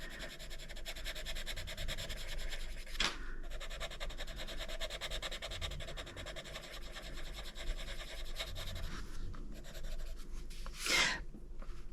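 Colored oil-based pencil, a Koh-I-Noor compared against Faber-Castell Polychromos, laid down on paper at normal pressure: a steady, close scratchy rubbing of lead across the sheet, continuous throughout with no voices.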